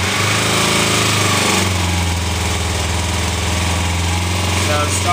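A 2007 Kawasaki Ninja 250 motorcycle engine starts on choke and settles into a loud, steady high idle, heard up close and alone.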